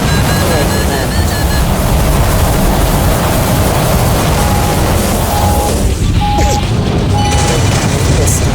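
A missile explosion in the PS2 combat flight game Heatseeker, heard as a loud, sustained, roaring blast under constant jet noise, with short electronic warning beeps and spoken game voices.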